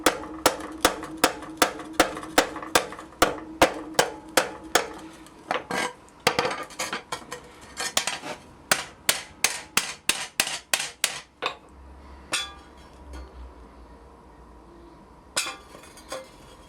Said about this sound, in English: Forging the flange isn't too complicated.